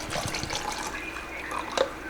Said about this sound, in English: I'll put more water so that all of the nodes and roots are covered